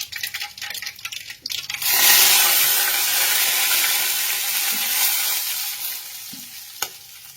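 After a few quieter clicks and pops, spices hit hot oil with mustard seeds, including chilies, bay leaf, curry leaves, cloves, fenugreek, cumin and asafoetida. A loud burst of sizzling follows and settles into a steady frying hiss with a sharp tap near the end.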